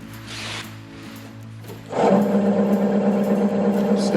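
A wood lathe spins up an off-balance cedar vase blank, jumping from quiet to a steady, loud mechanical hum with a faint rhythmic wobble that holds to the end.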